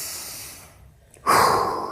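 Deep breathing during a hip mobility stretch: a soft, drawn-out breath fades to near silence, then a sudden, louder, breathy inhale or exhale follows close by, with no talking.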